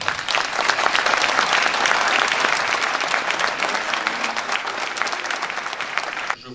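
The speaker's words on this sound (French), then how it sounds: "Et je souhaite que vous les applaudissiez largement." A hall audience at a 2018 New Year's wishes ceremony gives loud, sustained applause for the club's champion senior women's football team, dense clapping holding steady for about six seconds before cutting off.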